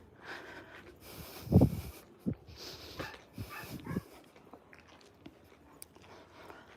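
A dog snorts and sniffs close by in short bursts, one stronger snort followed by a few softer ones, with quiet gaps between.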